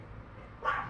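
A dog gives a single loud bark near the end, rising out of steady low background noise after a quiet stretch.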